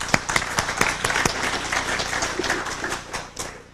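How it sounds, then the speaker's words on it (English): A small group claps briefly, a scattered burst of applause with sharp individual claps that thins out over a few seconds. "A little round of applause for John."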